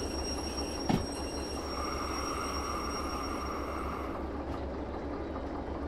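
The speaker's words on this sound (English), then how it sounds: "My character almost got run over by a train" In a video game, a train rolls past with a continuous rumble and a sustained wheel squeal, one sharp clank early on, and a steady low drone carrying on to the end.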